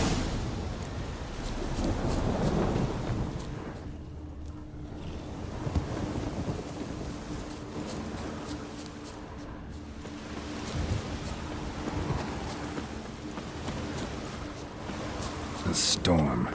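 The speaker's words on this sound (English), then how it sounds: "A storm, damn it." A rainstorm in the video game The Witcher 3, with a continuous loud wash of rain and wind filling the scene and a voice speaking over it.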